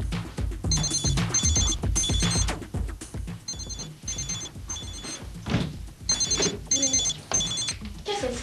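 A mobile phone rings inside a closet in repeated electronic bursts, muffled and at a moderate distance, alongside thumps and movement with people talking.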